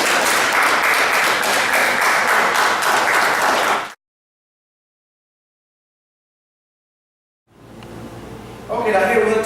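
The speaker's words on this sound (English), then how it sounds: "let's do a big round of applause for you guys" Applause and clapping from an audience for students at an end-of-year show, a dense, steady burst for about four seconds that cuts out abruptly, followed after a silence by voices and clapping returning near the end.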